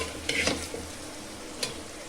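Cluster bean and potato curry sizzles in oil in a pan while a spoon stirs it, with a few distinct scrapes and clinks against the pan over a soft, constant frying hiss.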